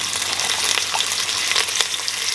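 Smoked sausage browns in hot oil in a pan with a lively, close sizzle and scattered sharp pops and crackles, steady throughout and heard alone.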